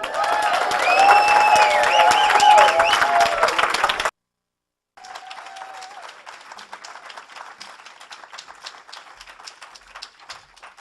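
A live audience at a TCSL show claps and cheers for the next act, with dense, loud applause that cuts out suddenly, then resumes more thinly and patters on.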